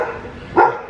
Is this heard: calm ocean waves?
no